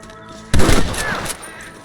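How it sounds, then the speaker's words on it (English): A single loud, sharp gunshot in the video game Red Dead Redemption cracks out, followed by a brief echoing tail as the sound fades against a quieter background. "I can hear more gunshots."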